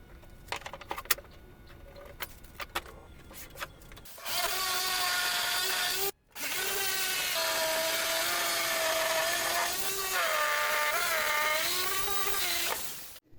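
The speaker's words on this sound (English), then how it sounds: "Now I will go and cut the hole for plexiglass." A power tool cutting a hole in chipboard for a plexiglass window in a home-built sandblasting cabinet: a few sharp clicks, then a loud sustained whining cut with a brief pause and wavering pitch as the blade works through.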